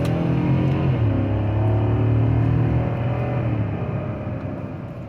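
A 2020 GMC Yukon Denali XL, a repairable salvage SUV, accelerating with a steady, loud engine drone heard from inside the cabin, its pitch shifting slightly before easing off toward the end.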